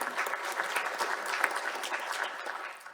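Audience applause at a space industry networking event in Canberra, a dense, steady wash of clapping from a crowd that carries on for a few seconds and then fades toward the end.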